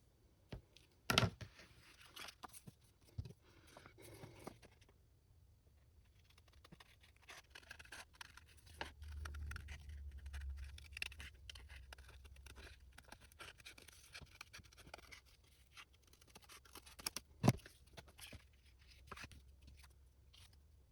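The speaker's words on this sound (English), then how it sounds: "I'm going to cut inside the line a little bit" Scissors cutting paper along the inside of a traced line, heard as quiet, close snips and scratchy rustling with a few sharper clicks scattered through a soft background.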